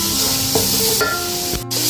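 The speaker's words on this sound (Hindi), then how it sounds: "मसाले ऐड करने के बाद भी आपने तकरीबन 2 से 3 मिनट इसको भून लेना है अच्छे तरीके से" Spiced aloo gobhi masala of potato and cauliflower sizzling in hot oil while being stirred, a steady close crackle with a few scraping strokes of the spoon against the pan.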